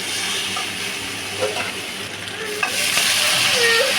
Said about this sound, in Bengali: আলুগুলো দিয়ে ভালোভাবে নাড়িয়ে চাড়িয়ে নিচ্ছি